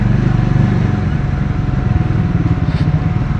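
Adventure motorcycles, a Royal Enfield Himalayan 450, Triumph Scrambler 400X and KTM 390 Adventure, ride through town back streets. Close, loud, steady engine thrum with a pulsing low rhythm throughout.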